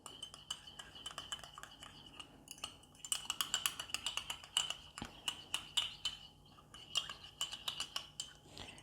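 A spoon stirring yeast into water in a bowl, producing quick repeated metallic clinks and taps in a steady rhythm, close and fairly quiet.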